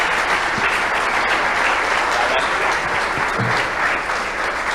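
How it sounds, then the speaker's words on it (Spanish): An audience at a responsible and sustainable sport event applauds a departing guest speaker, with loud, continuous, dense clapping that holds steady and unbroken from start to finish. "Un aplauso, este aplauso es para vos."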